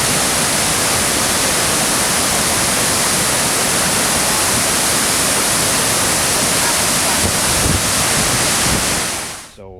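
Fast-moving flood water, about two feet deep, rushing over boulders and rocks on an enduro riding trail: a loud, steady, unbroken roar of water close by, with some wind buffeting the microphone, tapering off right at the end.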